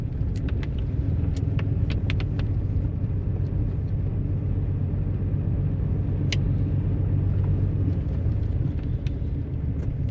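A truck crawling through a West Virginia forest in 4-wheel drive after a storm, its low engine rumble steady and close, with scattered clinks and knocks from the cab over the drone.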